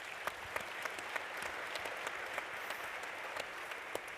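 Audience applause at a Girl Power luncheon, a steady wash of many hands clapping with scattered sharper individual claps, moderately distant and continuous throughout, with no voices over it.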